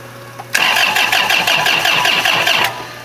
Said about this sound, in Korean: 시동 한번 걸어.